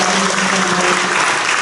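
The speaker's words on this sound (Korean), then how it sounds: "힘찬 박수로 축하해 주시기 바랍니다." A congregation gives strong applause at a church ordination thanksgiving service for elders, deaconesses and ordained deacons, marking the 76th anniversary of Jeonju Taepyeong Church; loud, sustained clapping runs evenly throughout with no voices.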